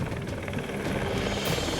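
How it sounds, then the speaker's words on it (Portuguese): A helicopter circles over a canyon, its rotor a loud, steady thudding drone that fills the whole stretch without a break. "E o helicóptero passa por cima de nós e fica circulando pro lado de cima do cânion um tempão"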